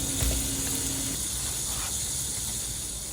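Green-tinted lotus root pancake batter sizzles in a frying pan, a steady close hiss filling the clip with a brief low tone near the start and no talking.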